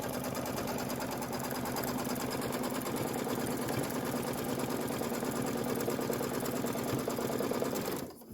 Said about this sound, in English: go ahead and stitch the tack down